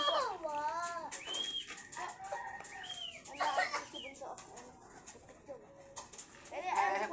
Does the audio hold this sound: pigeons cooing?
yes